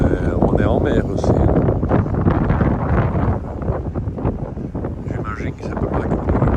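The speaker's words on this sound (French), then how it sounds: "Il y a du vent, mais on est en mer aussi." Strong wind buffeting the microphone at sea on a short Norwegian ferry crossing in the rain, a loud continuous rushing roar with gusty swells, with a voice talking beneath it.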